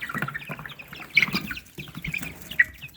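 Chickens and roosters in a farmyard coop, including a black rooster, cuckoo-colored cocks and an ash-grey cock, give scattered clucks and calls with a couple of sharper cries over a busy, rustling background.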